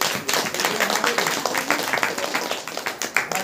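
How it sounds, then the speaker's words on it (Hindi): A congregation claps hands in praise during a Hindi-language church service, a dense steady patter of many hands filling the room while a preacher's voice carries over it. "ताली बजाकर परमेश्वर"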